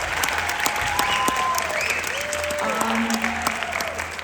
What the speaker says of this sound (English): everybody, round of applause for all of our senior members